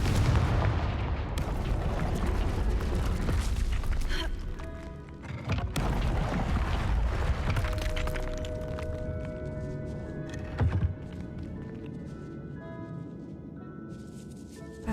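Confringo fire spells explode in Hogwarts Legacy gameplay: repeated booming blasts and bursts hit in quick succession, loud and close, followed by crackling debris and a ringing game soundscape.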